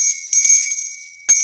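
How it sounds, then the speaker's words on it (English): A bright metallic bell rung sharply several times, close and loud, with clear high ringing tones that sustain between quick repeated strikes. "Spoiler bell. Oh, I love that bell."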